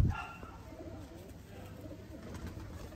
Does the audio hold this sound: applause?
no